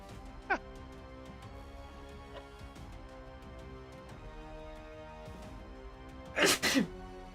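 A sudden, loud sneeze bursts out near the end of a stretch of quiet background with a few faint clicks and knocks, a short double-peaked explosive sound standing alone.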